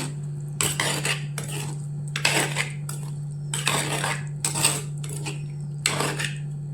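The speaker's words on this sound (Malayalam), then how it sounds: "എല്ലാം കൂടി നന്നായിട്ട് യോജിപ്പിക്കുക." A spoon stirs grape pickle masala in a metal pan on the stove, producing repeated scraping and clinking strokes in irregular bursts over a steady low hum, with no speech.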